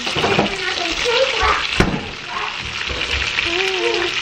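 Oil crackles and sizzles steadily as vegetable spring rolls fry close by, with a voice murmuring faintly under it.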